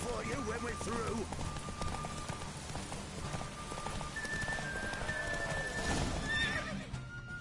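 Galloping hoofbeats pound rapidly with a horse's whinny during a horse race in The Witcher 3, set against game sounds and voices speaking.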